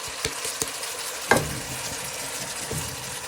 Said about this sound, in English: you're going to start breaking them down using the back of your wooden spoon